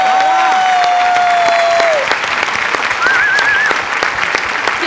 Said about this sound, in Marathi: खरंच ताईच्या बेरिंगसाठी जोरदार टाळ्या झाल्याच पाहिजेत.